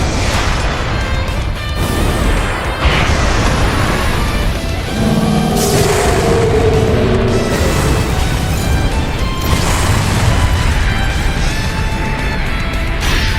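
A charged Buster cannon blasts in Super Robot Wars Y, a loud sustained roar of crashing, booming energy fire with layered impact bursts and a bright musical score running underneath throughout.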